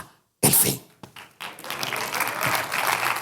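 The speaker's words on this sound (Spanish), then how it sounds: "Dale ese aplauso grande al Señor, aleluya." A church congregation breaks into applause after a brief silence, starting with a few scattered claps and swelling into steady, dense clapping that fills the room.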